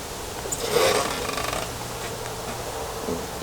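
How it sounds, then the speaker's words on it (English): Rubber boots rub and squeak against the high-gloss surface of an XOP Rubicon hang-on hunting stand, a brief squeal near the start fading into a low, steady scraping hiss. "that was the rubber boots rubbing on the high gloss"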